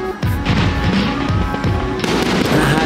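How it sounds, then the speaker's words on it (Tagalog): Fireworks display at Seibu Yuenchi amusement park in Japan, a loud, dense barrage of booming bursts and crackling pops overlapping without pause, heard at fairly close range with no talking. "Meron ng fireworks display na napaganda."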